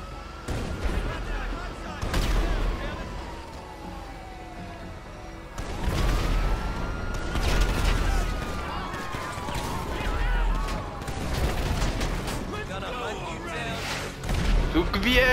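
Gunfire and explosions in the video game GTA 5 come in bursts of sharp shots and booming impacts, loud and dense, with someone talking excitedly over the action.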